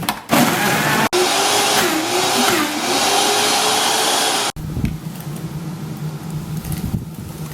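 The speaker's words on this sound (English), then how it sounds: "So we have the Vitamix, so it is very powerful." A powerful Vitamix blender whirs loudly and steadily while blending cider into slushies, its motor pitch wobbling as the load shifts, then cuts off abruptly and leaves quieter background noise.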